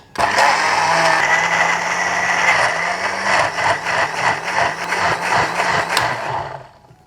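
A kitchen blender whirs loudly and steadily as it grinds a spice paste loosened with a little water for Jimbaran grilled fish, the motor churning close by before winding down at the end.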